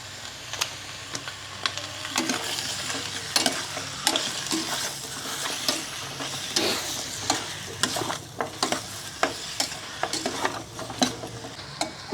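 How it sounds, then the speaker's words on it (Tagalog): Chicken sautés in a hot pan, a steady close sizzle broken by frequent scraping and clacking of a spatula or spoon stirring against the metal in uneven bursts. "ito na po yung ating chicken na ginigisa"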